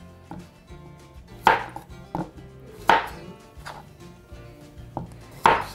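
A knife chops an onion on a cutting board in uneven bursts, with three sharp, loud thunks standing out among lighter taps, close-up and without any talking.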